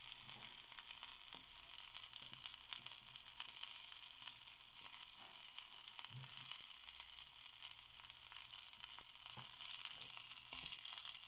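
Garlic and green chilli frying in a pan on a low flame while making a drumstick-leaf pachadi: a soft, even sizzle that hisses steadily throughout with no talking.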